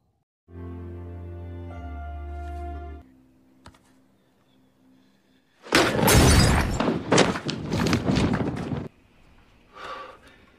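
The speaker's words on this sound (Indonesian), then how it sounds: "Akan tetapi, tanpa sengaja, Regan menyenggol lampu hingga pecah dan menimbulkan sedikit kepanikan." A lamp is knocked over and shatters in a loud, dense burst of breaking and crashing that lasts about three seconds. A musical tone comes first, then a quiet gap, and a faint clatter follows at the end.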